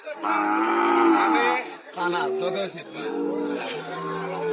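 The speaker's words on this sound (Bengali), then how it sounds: "এটা হলো পাঁচ নাম্বার এই পাঁচটা গরু" Sahiwal breed cattle low in long drawn-out moos, close and loud, with people talking among them.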